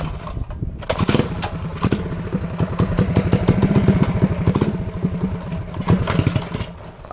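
A dirt bike engine running on a desert trail ride, a steady rapid lumpy putter close by with small throttle blips, loud and continuous without talk.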